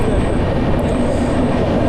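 A passenger train runs on the Araku valley line through the Eastern Ghats, giving a loud, steady close-up rumble with no clear breaks.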